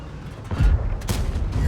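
A tank cannon firing in World of Tanks, a Super Conqueror in battle: a single deep boom that rises partway through and rolls into a sustained low rumble and crackle, fairly close.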